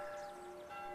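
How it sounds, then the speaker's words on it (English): Church bells ring out over a quiet village, a steady sustained peal of bright overlapping tones carrying from a short distance, with no voices. "Bells?"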